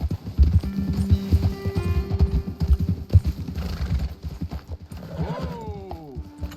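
Horses' hooves clip-clop at a walking pace in Red Dead Redemption 2, close and steady, slowing near the end as a horse whinnies clearly and a voice speaks briefly.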